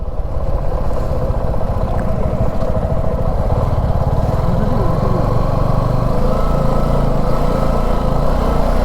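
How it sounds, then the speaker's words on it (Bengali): A motorcycle rides through sand and mud on a road choked with lorries during a Kolkata to Siliguri trip. Its engine drones steadily and loudly for the whole stretch, with no clear talk over it. "পুরো বালি কাদার মধ্যে দিয়ে আমরা বাইক চালিয়ে যাচ্ছি"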